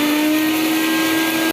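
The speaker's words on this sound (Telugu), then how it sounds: "ఇప్పుడు ఈ పోపు మిక్సీలో వేసేసుకోవటమే." Kitchen mixer grinder whirring steadily as it blends tempering seasoning for coconut and raw mango chutney, a loud continuous motor whine that cuts off abruptly at the end, with no speech.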